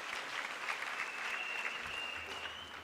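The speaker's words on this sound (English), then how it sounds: "Let's give him a big round of applause." Steady applause from a large audience at a university graduation ceremony, a dense even wash of clapping held at a constant moderate level, fairly distant and with no voices over it.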